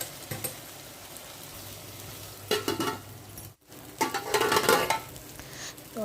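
Chopped tomatoes dropped into a hot pan of chicken methi curry, sizzling and frying with stirring and scraping bursts, a clatter of utensil against the pot and a brief pause midway.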